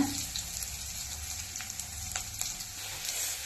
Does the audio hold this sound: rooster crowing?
no